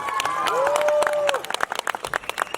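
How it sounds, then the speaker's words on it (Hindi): Applause and cheering from a crowd at a Zee TV show launch event, a steady wash of clapping that holds strong for a second and a half, then breaks into scattered, uneven claps with a whistle-like tone rising above it. "जोरदार तालियां होनी चाहिए."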